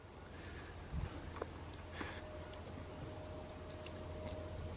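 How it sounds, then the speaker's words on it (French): A glass of water is poured onto a solar panel, giving a faint, brief splash and trickle against a quiet outdoor background, with no talking. "je vais réessayer le verre d'eau"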